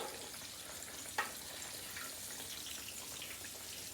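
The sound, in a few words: country fried steaks frying in hot oil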